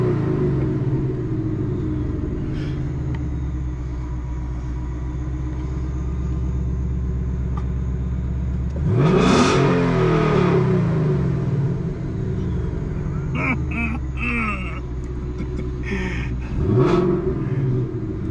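2021 Ford Mustang GT V8 fitted with a JLT cold air intake: a steady, rumbling idle broken by two sharp revs that flare up loudly and quickly fall back, heard up close.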